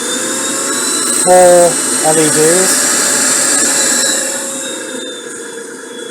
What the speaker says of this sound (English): The vacuum cleaner works.